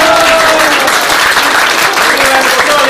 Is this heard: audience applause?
yes